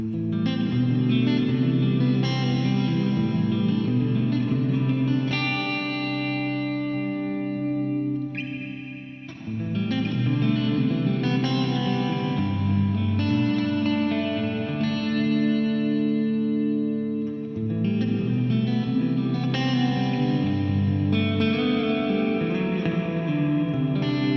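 An electric guitar plays sustained chords and melodic lines drenched in lush reverb, notes blooming into a wide wash with a brief pause midway.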